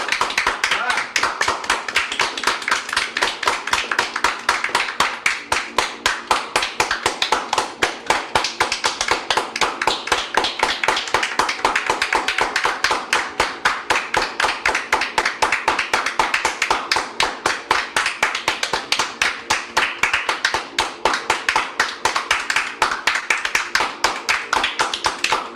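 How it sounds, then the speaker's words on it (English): A group of people claps steadily and rapidly in a fast, even rhythm, sustained and loud for nearly half a minute, with voices talking underneath. "Guys, round of applause. Everybody clap."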